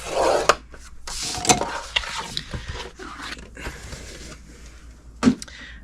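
Cardstock being scored on a scoring board for a Stampin' Up treat box. Soft scraping and rubbing strokes come with a few sharp clicks and taps, close by and fairly quiet, with no talking.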